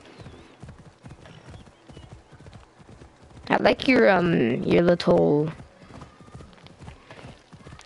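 Horse hooves clip-clopping in Assassin's Creed Odyssey, a steady run of light hoof clops throughout, broken midway by a loud, close horse whinny, while a person talks over parts of it.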